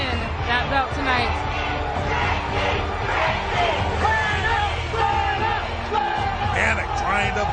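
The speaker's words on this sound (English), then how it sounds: "The crowd is going wild." A fight crowd cheers and roars loudly in a steady, dense wall of noise with scattered whoops, while a commentator talks over it throughout.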